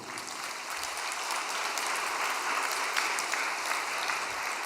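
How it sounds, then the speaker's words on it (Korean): Audience applause fills a hall during a Korean religious gathering, a steady dense patter of many hands clapping at an even level throughout, with no voices over it. "박수 한번 올려드립시다."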